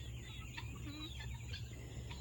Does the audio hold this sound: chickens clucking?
yes